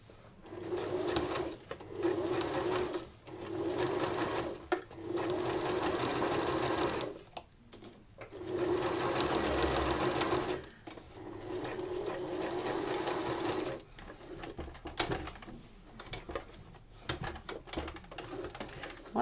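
A sewing machine stitches a small cotton baby apron around a curved neckline in several bursts of steady whirring, stopping and starting with brief pauses between runs, close and fairly quiet.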